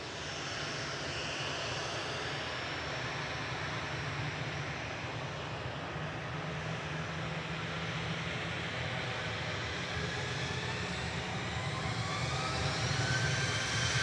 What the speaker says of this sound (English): Behind the departing Tui, we've got EasyJet lined up and ready to go.